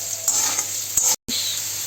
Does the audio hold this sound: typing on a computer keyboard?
no